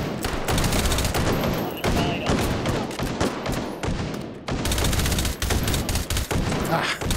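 Sustained rapid gunfire from firearms in the VR shooter Hot Dogs, Horseshoes & Hand Grenades, loud dense bursts of shots almost without pause, with a short lull midway, and a voice talking faintly beneath.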